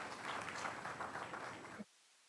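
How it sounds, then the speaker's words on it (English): An audience claps at a university convocation ceremony, a dense patter of applause heard at a distance that stops abruptly after a couple of seconds. "Big round of applause for that recognition,"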